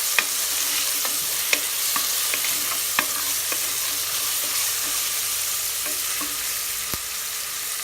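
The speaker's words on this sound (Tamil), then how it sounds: "ஆனியன் வதங்கிறதுக்காக சால்ட் ஆட் பண்ணிவிட்டு நல்லா வதக்கி விடுங்க" Onions sauté in a pan with salt for chicken biryani, giving a steady sizzle and hiss broken by occasional sharp clicks of the spoon stirring against the pan, close up and without talk.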